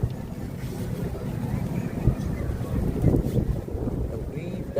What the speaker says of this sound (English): The wind, that's the one that making it worse